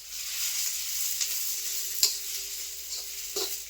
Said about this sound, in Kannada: ಈಗ ಉಳ್ಳಾಗಡ್ಡಿ ಚಂದ ಫ್ರೈ ಮಾಡ್ಕೋಬೇಕ್ರಿ, ಗೋಲ್ಡನ್ ಕಲರ್ ಬರೋಂಗ